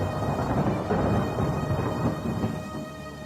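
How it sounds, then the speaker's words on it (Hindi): Heavy rain pours down in a steady, dense roar with rolling thunder mixed in, loud and close throughout with no voices. "अगले दिन बहुत जोरों की बारिश हो रही थी"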